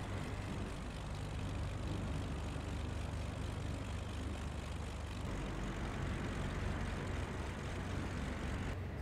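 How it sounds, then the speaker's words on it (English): Steady, loud propeller aircraft engine drone in Microsoft Flight Simulator 2020, a continuous idling hum with a low throbbing tone that runs unbroken throughout, parked at Pulau Redang before shutdown. "shut the engine down, and then we're gonna restart the engine and fly off to Kuala Terengganu"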